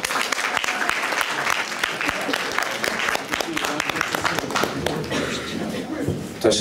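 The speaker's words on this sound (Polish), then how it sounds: "I gorące dla niej brawa." Warm audience applause for the first-place winner at a patriotic song festival; vigorous, uneven clapping with some shuffling and footsteps, and a voice speaking over it.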